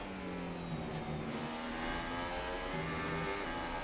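A Toro Rosso Formula 1 car engine at the Bahrain circuit in the F1 2018 game, a steady high-pitched whine that shifts pitch through gear changes, sounding continuous and fairly close.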